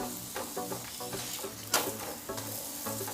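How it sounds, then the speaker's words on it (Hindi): A soya and fenugreek paratha roasts on a hot pan with steady soft sizzling, joined by a few brief scrapes and one sharp tap partway through. "दोनों तरफ से थोड़ा थोड़ा हम सेक लेंगे इसे ताकि थोड़ा सा ये रेड रेड रहे"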